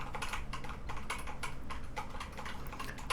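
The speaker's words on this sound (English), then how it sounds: "These two keyboards have really smooth, linear." Rapid typing on a keyboard with smooth linear switches gives close, dense key strikes with a soft clack, running continuously at an even pace.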